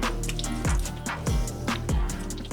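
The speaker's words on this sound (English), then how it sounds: "A little sink shower to start off the morning." Water splashes and drips at a sink during a morning wash, with repeated close, squishy splashes falling in an uneven rhythm against a steady running-water wash.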